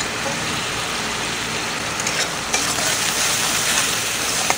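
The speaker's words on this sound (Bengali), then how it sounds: "ভালো করে মশলাটা কষিয়ে নিব" Cumin and ginger paste with chili powder, salt and turmeric fries in oil in a pan, giving a loud, steady, dense sizzle throughout with no voices.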